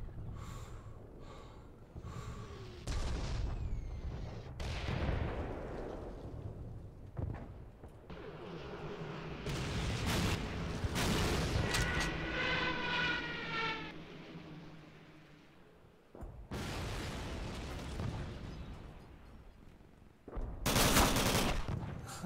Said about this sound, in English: Artillery ready to go!